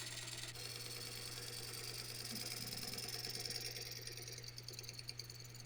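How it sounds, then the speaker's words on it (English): A wood lathe cuts a tenon on a crotch live oak bowl. A steady motor hum runs under a continuous, quiet scraping of the tool against the spinning wood. "So I'm going to go ahead and cut my tenon down to that depth."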